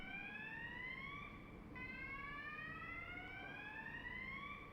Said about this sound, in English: When the siren goes off, you have to stop.